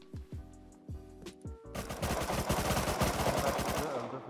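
Gunfire in the survival game Rust during a raid defence, starting as a few spaced single shots and then breaking into a loud, dense burst of rapid automatic fire.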